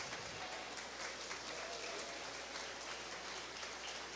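Spectators at a dairy cattle show clap for the young exhibitors, a steady, dense patter of applause that holds evenly from start to finish.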